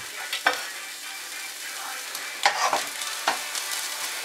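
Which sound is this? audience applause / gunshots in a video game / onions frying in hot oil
onions frying in hot oil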